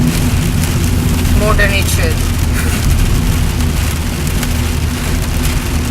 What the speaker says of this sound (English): there will be the sound of rain.